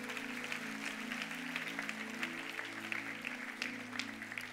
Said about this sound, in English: Come on and give God a clap of praise.